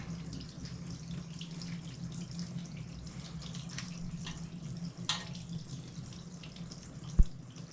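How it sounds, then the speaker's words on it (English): Coolant pours out of the water pump on a 2004 Harley-Davidson V-Rod during a DIY repair, a steady trickling splash with a low hum beneath and a sharp metallic knock near the end. "There comes the coolant."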